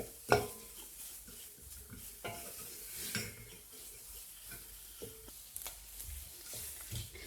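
Spoon stirring flour and tomato paste as they roast in a pot over lowered heat, soft scraping strokes with occasional light knocks against the metal and a faint sizzle, quiet and close.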